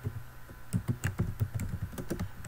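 Quick, steady keystrokes on a computer keyboard as a name is typed in, a dense run of light clicks close by with no talking.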